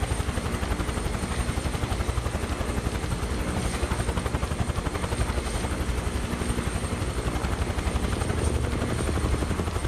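Helicopter flying in a flight simulator game, a steady rhythmic rotor chop over a constant engine drone, loud and continuous throughout with no talk.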